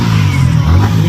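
A 155 cc Yamaha R15 motorcycle engine revs loudly and close during an exhaust check, a throaty, steady mid-pitched roar that swells slightly.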